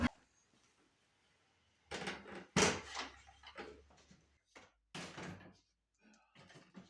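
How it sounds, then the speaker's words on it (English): Woodworking shop equipment being moved: a planer slid aside and a table saw pulled out, giving a few scattered thumps, scrapes and rolling knocks, moderately close, with a voice talking between them. "I slide the planer away and pull the table saw out."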